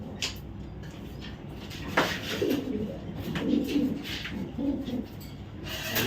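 Racing pigeons in a loft coo in soft, low repeated calls, several birds murmuring close by against a steady background hum with an occasional knock.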